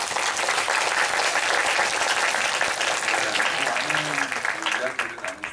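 Audience applause after a talk at a film screening in a Dolby Cinema hall, dense steady clapping that swells then thins out toward the end, with a voice emerging briefly under it.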